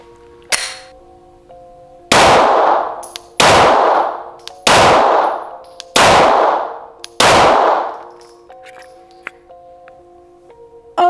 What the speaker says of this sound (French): on va faire avec 5 cartouches le parcours qui se trouve juste ici